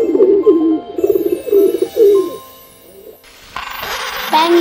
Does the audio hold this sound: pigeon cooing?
yes